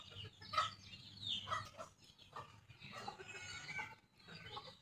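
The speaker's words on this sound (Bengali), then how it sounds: "সবগুলো ঢেকি মুরগি আমার ডিম পাড়া শুরু করছে আস্তে আস্তে" Dheki hens of a laying flock cluck softly in short scattered bursts, faint and close by, with light farmyard background.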